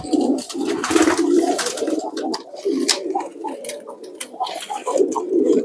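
Giring pigeons from Pekalongan and Temanggung coo steadily and close by, several birds overlapping in low, throaty rolling calls with no talk over them.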